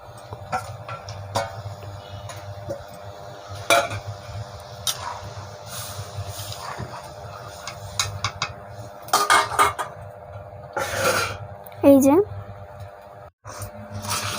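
Fried fish head goes into a pot of lentil dal, with metal utensil clinks and pot scrapes across the stretch while a person talks throughout.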